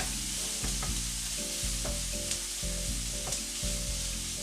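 Sausage sizzles in a pan while a utensil stirs and scrapes it in short, regular strokes, with a low steady hum running underneath and no talking.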